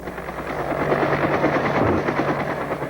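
A helicopter flies over a mountain mining site, a steady low rotor and engine drone that swells slightly in the middle, fairly close and continuous without talk.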